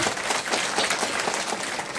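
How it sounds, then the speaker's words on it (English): Audience applause at a waste management and social entrepreneurship event, a steady dense patter of clapping from a crowd filling the whole moment without a break. "Please, round of applause for everyone."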